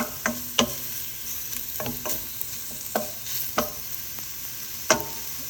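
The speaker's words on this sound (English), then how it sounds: "Now let the pork butt and bacon saute." Pork butt and bacon sauté in a pan for a Korean soft tofu noodle stew, giving a steady hiss with a few sharp, spaced spoon knocks and scrapes.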